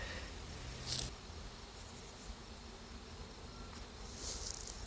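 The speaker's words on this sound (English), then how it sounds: "another beautiful frame of bees" A quiet, soft hum of honey bees buzzing on a hive frame, with a couple of brief louder buzzes as insects pass close, otherwise a faint steady drone.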